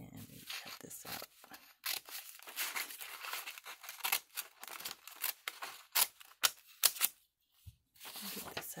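Paper being snipped and crinkled close by while an image is cut out for a junk journal charm made from vintage 35mm photo slides, in short irregular bursts with brief pauses.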